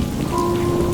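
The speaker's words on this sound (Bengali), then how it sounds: "বৃষ্টির তোড়ে" Steady heavy rain pours down in a dense, continuous hiss with a low rumble beneath, close and loud, with no talking.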